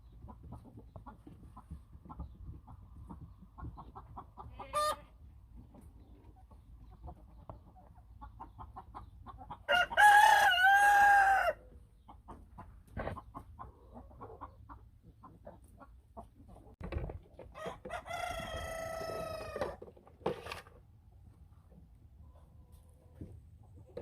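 Black Copper Marans and Cream Legbar hens in a coop cluck softly and intermittently, with a louder burst of squawking midway and another cluster of calls near the end, all moderately close with no talking.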